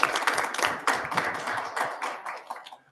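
A small group claps after a presentation at a planning commission work session, a few scattered hands tapping unevenly, fairly close and thinning toward the end.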